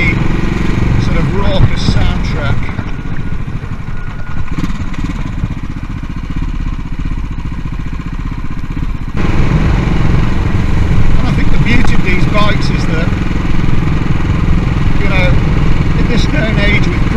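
A CCM Bobber motorcycle's engine rumbles raucously while riding on the open road, a loud continuous drone with wind rush that dips for a few seconds and then swells back, with someone talking over it.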